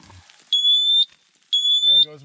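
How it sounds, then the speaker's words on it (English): A smoke detector inside a hot tent on a snowmobile camping trip gives two loud, shrill, half-second beeps about a second apart, close by, with brief voices before and after. "There goes my smoke detector."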